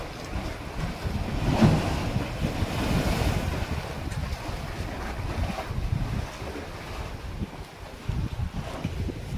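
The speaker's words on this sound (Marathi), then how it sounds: "हे समुद्राचं पाणी असं जोरात येतं, लाट या कपारीमध्ये आदळते" Sea waves surge and crash into a rocky crevice below Bamangad on the Konkan coast at Guhagar, a steady rolling roar of surf with gusty wind buffeting the microphone, one heavier swell near the start.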